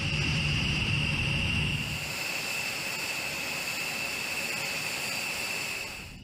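A large US military bomber's jet engines at afterburner takeoff, a loud broad roar with a high whine that eases slightly after the opening seconds and fades at the end.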